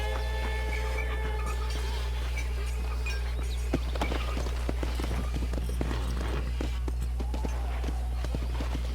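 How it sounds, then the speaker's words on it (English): Horse hooves in the video game Red Dead Redemption, a steady clip-clop of trotting hoofbeats that grows busier midway, heard over a constant low hum and faint game ambience. "Olha o cavalo ali."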